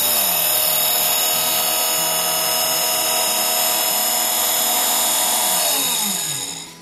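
A multiple material cutting machine running on cloth, a loud steady high-pitched motor whine with a shifting buzzing tone underneath, holding level until it dips and tails off at the very end.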